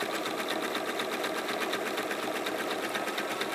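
A sewing machine running continuously while stitching the base of a fabric bag, a fast, even rattling hum heard close and alone.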